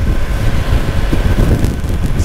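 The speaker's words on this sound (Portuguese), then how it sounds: "o vento tá bem brando, tá bem tranquilinho" Steady wind rushing past on an open road trip, a continuous low buffeting roar close to the microphone that holds even throughout, with no voices.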